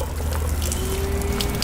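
Water from an unscrewed household water filter housing dumped out in a steady trickle and pour, continuous and fairly close, over a low rumbling background with no talk.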